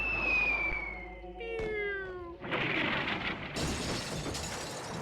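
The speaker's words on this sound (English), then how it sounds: "What a waste of good stained glass." Stained glass shattering in the Eternal Darkness video game, a crash of breaking glass following warbling cat-like cries, loud and close.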